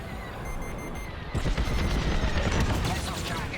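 Blaster gunfire around a Comsat in the space combat game Star Wars Squadrons, a steady crackling barrage over a continuous engine roar that swells louder midway, with no voices.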